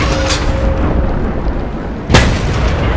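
A tank cannon fires in a tank combat video game amid a constant rumbling engine and battle bed, one sharp loud boom near the end cutting through the steady din.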